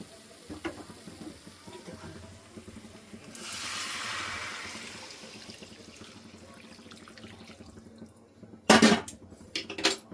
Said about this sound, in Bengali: এবার জল দিয়ে দেবো। গরম জল বসিয়ে দিয়েছি।